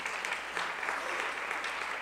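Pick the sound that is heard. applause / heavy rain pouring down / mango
applause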